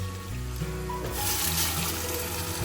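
Water poured from a cup into a cooking pot for rice during a family Christmas meal: a steady, close splashing stream that builds and fills out after the first second, with no voices.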